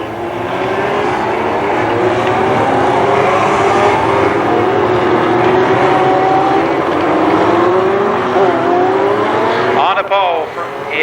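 Legends race cars circle the Columbus Motor Speedway oval in a loud, continuous engine drone, overlapping motors rising and falling as they pass, while an announcer speaks over the noise.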